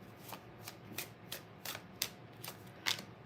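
Tarot cards are shuffled close up and quietly, a run of quick papery riffles and soft snaps arriving every half second or so.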